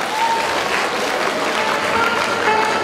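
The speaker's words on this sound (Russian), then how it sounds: "Под ваши аплодисменты." An indoor audience at a university song contest claps steadily and loudly, a dense wall of applause that holds for the whole span with faint voices beneath.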